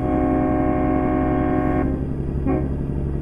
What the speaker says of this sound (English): We have a train horn in this thing